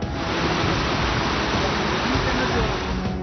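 Floodwater from the Lendi river near Borgaon in Latur rushes over a bridge after heavy monsoon rain. It makes a loud, unbroken roar of turbulent water that holds steady throughout.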